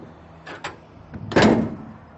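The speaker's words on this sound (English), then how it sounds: "you close your net wrap door" The net wrap door on a John Deere round baler is shut: a couple of light metallic clicks, then one heavy clanking slam whose resonance fades out, with no talk over it.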